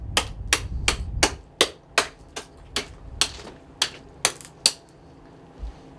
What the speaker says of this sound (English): cut right along the spine there